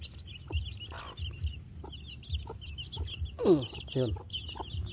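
A mother hen clucks softly near her chicks, with scattered low clucks and a couple of brighter calls, fairly close but quiet, while a person briefly speaks.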